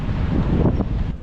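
Strong gusting wind buffets an outdoor microphone in Chicago, a steady loud rumbling roar with slight surges and no speech.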